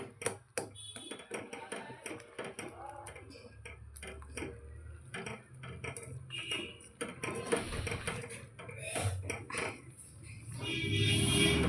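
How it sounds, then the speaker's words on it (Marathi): A spoon clatters and ticks quickly against a pot as roasted semolina goes into boiling water for upma and is stirred, with rapid metallic taps under intermittent talk and a rising hiss near the end. "हा आपण भाजून ठेवलेला रवा आहे तो घालायचा आहे आणि पटकन हलवून घ्यायचं आहे"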